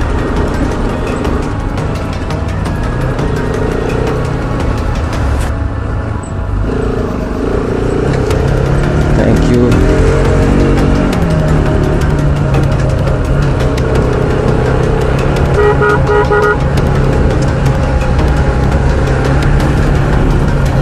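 Heavy road traffic of many vehicles streams past near a crowded fair in Doda, Jammu and Kashmir, a continuous loud wash of car and bus engines with occasional horn tones throughout.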